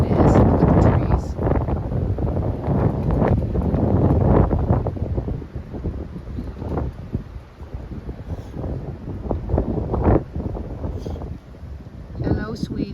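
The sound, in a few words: strong wind blowing outdoors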